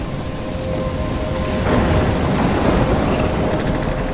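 Thunderstorm with steady rain from the video game Life is Strange: a dense, continuous hiss of rainfall with a low rumble of thunder swelling partway through, loud and enveloping, no voices.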